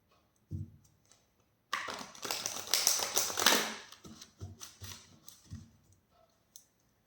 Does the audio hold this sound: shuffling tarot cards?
yes